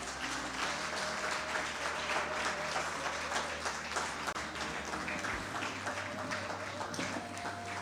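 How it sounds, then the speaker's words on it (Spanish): A church congregation applauding, a sustained, fairly faint wash of clapping heard from a distance with a low hum underneath. "Denle un fuerte aplauso al Señor,"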